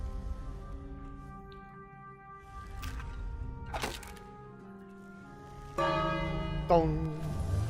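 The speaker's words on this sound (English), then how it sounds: "We got a bell." Bell tolling in the King's Quest video game (Episode 1, A Knight to Remember), several resonant rings with long sustained overtones, one struck near the start and two louder strikes near the end, over a quiet background.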